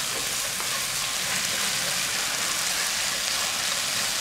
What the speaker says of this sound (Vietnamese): mình chỉ đổ mỡ vào thôi, là cho mình mỡ mỡ sôi là mình đổ vào là chiên giòn là xong